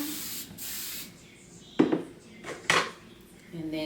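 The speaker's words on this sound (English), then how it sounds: "I will spray it one more time" Two short hissing bursts from a spray bottle misting braiding hair, close by, among faint handling clatter.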